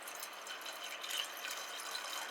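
Warmish ordinary tap water runs into a small vase holding a Phalaenopsis orchid in water culture, a soft, steady trickling hiss that stays fairly quiet and even, with no talking.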